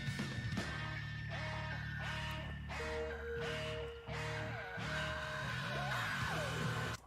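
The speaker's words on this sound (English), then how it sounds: "Someone screams, someone like metal screams, into a mic with distortion turned up to 11." A harsh metal scream through heavily distorted vocal effects rips over a loud, dense backing, its pitch bending and wailing across several seconds.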